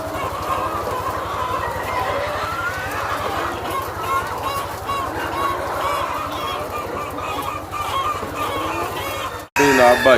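Thousands of layer hens crowd a small poultry farm in Pakistan, fans running, their dense clucking and squawking forming a loud, continuous din, with a brief break near the end.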